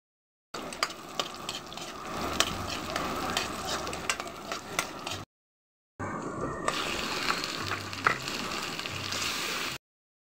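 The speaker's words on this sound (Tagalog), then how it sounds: "adobo naman yung lulutuin natin ngayon" Adobo is stirred and frying in a pan with a steady sizzle and scraping, loud and close, broken by a short pause partway through.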